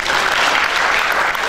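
A church congregation applauds for Jesus, giving dense, loud, continuous clapping from many hands throughout.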